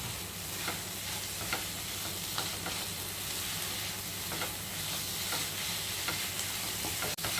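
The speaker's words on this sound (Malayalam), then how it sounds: "ആ വെളിച്ചെണ്ണയും ചേർത്ത് നമുക്ക് നല്ലവണ്ണം ഒന്ന് ഇളക്കാം." Egg curry masala with coconut oil is stirred in a pan, a steady close sizzle punctuated by regular light scrapes and clicks of the spoon against the pan.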